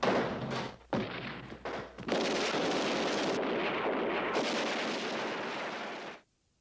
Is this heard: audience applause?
no